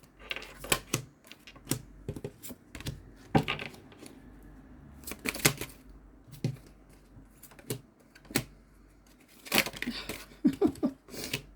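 Tarot cards being shuffled and handled: irregular crisp slaps, flicks and riffles scattered close by across the stretch, some sharp and loud, with no talking.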